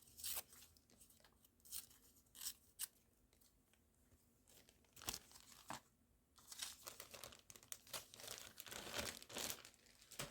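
Vintage yellowed, discoloured paper is handled up close, giving soft crinkles, rustles and sharp crisp tearing-like bursts at irregular intervals, fairly quiet overall.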